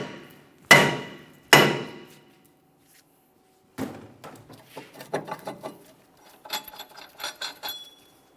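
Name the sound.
hammer tapping stuck brake rotor, Mitsubishi Lancer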